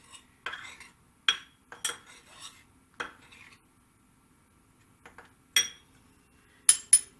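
Spoon stirring flour seasoned with salt and pepper in a bowl, heard as a series of short, close clinks and scrapes against the dish with quiet gaps between them.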